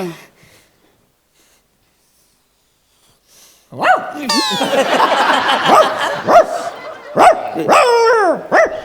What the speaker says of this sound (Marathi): सर, तो कुत्रा आहे.